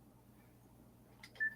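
Telephone keypad dialing beeps placing a call, a couple of short tones followed by a steady beep, faint and clear over a quiet background hum.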